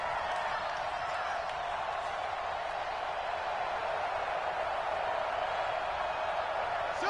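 A stadium crowd in a PS4 football video game gives a steady, loud roar of cheering that stays even from start to finish, with no clear pauses.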